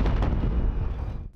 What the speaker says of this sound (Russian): разрывает парный выстрел пушек с Нарышкина бастиона